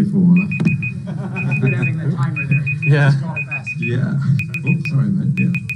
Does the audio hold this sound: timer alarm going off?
yes